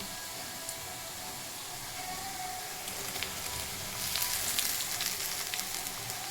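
Onions frying in a pan with tomatoes being added, a steady close sizzle and hiss that swells louder toward the end as the fresh tomatoes hit the hot oil.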